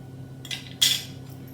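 A spoon clinking against a pot while an ayurvedic kadha mixture is stirred, two short bright metallic taps close by with a faint steady hum underneath.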